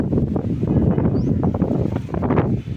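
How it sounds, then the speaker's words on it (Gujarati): Gusty cyclone wind buffets the microphone in rough, surging bursts of low roaring noise, loud and close. "આમ જો પવન લાઈવ જો લાઈવ"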